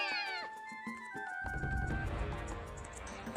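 Cat meows from the Naruto Ultimate Ninja Storm video game, a few short, close meows at the start before loud game music and effects take over.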